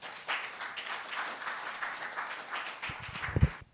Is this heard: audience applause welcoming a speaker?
yes